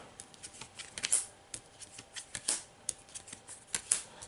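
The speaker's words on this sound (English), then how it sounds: "Let's draw some cards." Playing cards being drawn and shuffled during a Pathfinder Rise of the Runelords tabletop card game, a run of close, crisp papery flicks and snaps in irregular bursts with no talking.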